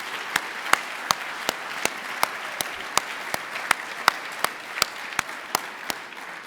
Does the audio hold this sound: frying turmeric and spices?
no